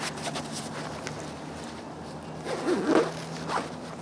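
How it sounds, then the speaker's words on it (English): The fabric carry bag of a Mountain & River compact lounge chair is zipped shut close up, with a few short zipper pulls followed by a longer, louder stroke near the end. "zip it up"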